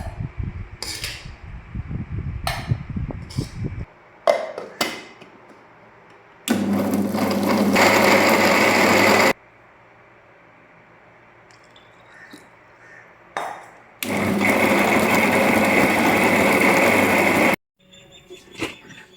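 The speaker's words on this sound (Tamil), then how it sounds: "வாங்க ஃபேன் போட்டு இதை நம்ம ஆற்றிக்கலாம்." An electric fan runs to cool cooked bottle gourd for chutney in a home kitchen, heard as two loud, steady whooshing stretches of several seconds each. Scattered clinks and knocks of cookware fall between them, with no talking.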